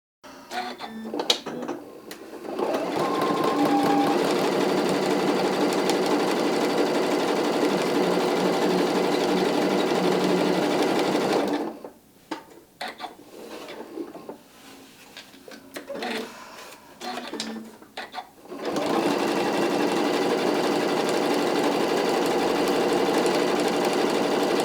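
A sewing machine runs in steady bursts, stitching a shiny poly or rayon decorative edge onto a shark, bass or mermaid stocking, with a pause midway and faint talk.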